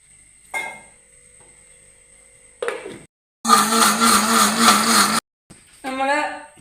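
A mixer grinder coarsely grinds coconut paste with water in short bursts, a loud whirring run of about two seconds, stopping and starting again, with clinks and brief pauses between.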